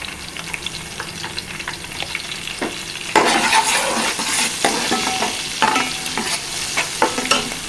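Turmeric stirred into a sizzling fish curry base in a pan for a Telugu-style bocha fish pulusu: steady close frying sizzle with spoon scrapes and stirring clicks, growing louder midway, no talk.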